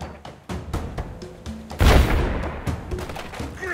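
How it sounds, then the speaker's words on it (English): A cannon fires in the Captain Sabertooth pirate video game, a single loud booming blast midway that follows a run of lighter thumps and clatter, with no one talking over it. "let's see what you're like with this here cannon"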